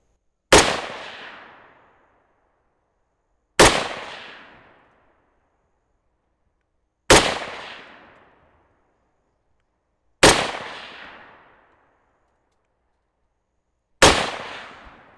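Five loud SKS rifle shots fired at a steel silhouette target 100 yards away, each a sharp crack with a short fading tail, spaced about three and a half seconds apart with silence between.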